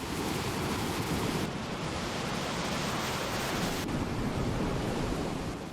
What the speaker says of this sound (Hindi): जब पहाड़ों के बीच बादल फटा और एकाएक भारी मात्रा में पानी नीचे आया और सैलाब सब कुछ बहाता चला गया